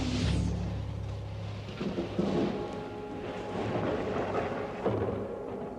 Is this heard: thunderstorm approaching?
yes